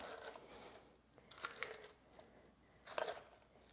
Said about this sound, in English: I'm just gonna gently push down with the bottom of the glass